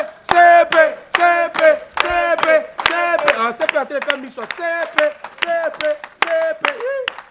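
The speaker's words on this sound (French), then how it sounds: "Viens, applaudissez pour la CP." A small group claps in scattered, uneven bursts for a person called forward at an informal gathering, with lively voices talking and calling out over the clapping throughout.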